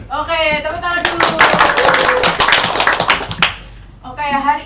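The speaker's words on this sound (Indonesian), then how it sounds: "Oke, tepuk tangan dulu." A classroom of pupils claps together for about three seconds in a dense burst of many hands, with a teacher speaking just before and right after.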